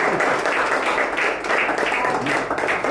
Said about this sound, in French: d'abord on applaudit Francine Thomas.